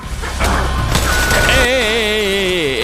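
Gunfire in Metal Gear Solid 4 sounds as a dense burst of loud booming shots up close, then gives way to a whining, wavering electronic tone.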